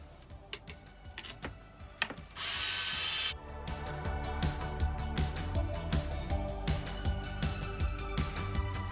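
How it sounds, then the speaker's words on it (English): A power drill drives bolts into the rear A-arm of a 2019 Arrma V4 Kraton RC car, one loud whirring burst of about a second amid close clicking, ratcheting and handling noises. "So now we can screw back in these bottom ones."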